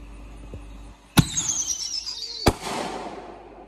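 Fourth of July fireworks outdoors: two sharp, loud bangs about a second apart, each followed by crackling and a whistling, descending tail, with faint background noise between.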